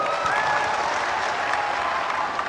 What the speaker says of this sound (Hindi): हो जाए ताली आज आपके नाम पर।